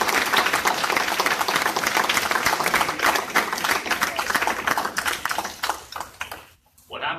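Audience applause for candidates at a university diversity campaign panel, a dense steady clatter of many hands that runs for several seconds, thins and briefly drops out near the end, then returns.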